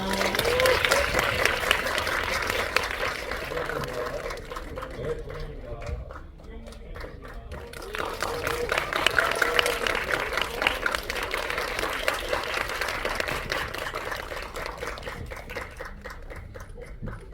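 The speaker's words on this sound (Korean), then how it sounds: "큰 박수 부탁드리겠습니다" A cinema audience at a weekend stage greeting claps to welcome a film's director and actors, a long run of steady applause that dips briefly before rising again, with voices faintly mixed in.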